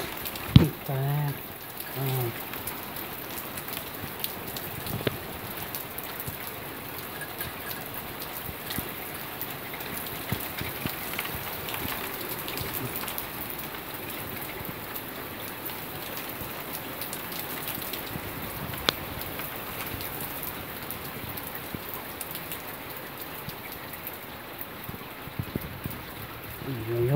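Heavy rain pours steadily outside at the back of a house during a thunderstorm, a dense continuous wash of drops on surfaces, fairly close and unbroken throughout.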